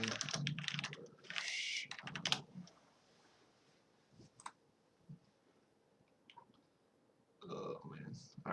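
Close computer keyboard typing in short bursts of clicks and taps with pauses between them, and someone talks quietly at times over the keys.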